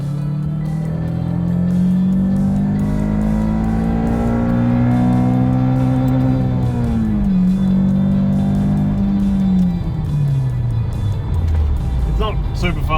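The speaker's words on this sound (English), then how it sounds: "After the repair, we were finally able to give it a proper rev." A Toyota Camry fitted with a swapped Honda K24 VTEC engine revs hard, its loud, steady engine note climbing and falling over several seconds, then settling lower as it winds down.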